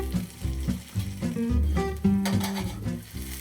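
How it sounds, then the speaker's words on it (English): Potatoes fry in a pan with a steady low sizzle, broken by scraping and clattering bursts as they are stirred and flipped, all close and fairly quiet. "Now we just flipped the potatoes."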